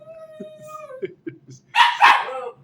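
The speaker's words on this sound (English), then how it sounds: "got the dog barking" A dog barks loudly near a home kitchen in a few sharp bursts near the end, after some faint, thin speech.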